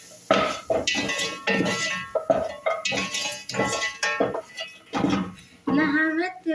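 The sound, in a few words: stirring food in a cooking pot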